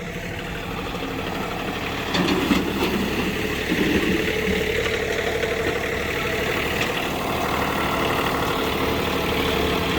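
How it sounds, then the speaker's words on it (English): A tractor engine idles and rumbles steadily nearby in snow beside a hoop house, a constant low mechanical drone that swells slightly partway through. "pulling around the tractor"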